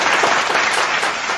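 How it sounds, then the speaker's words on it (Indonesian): Dense audience applause at a talk show event with Coach Edy Sharma, a loud, steady wash of many hands clapping at once, close and continuous throughout. "Luar biasa. Tepuk tangan"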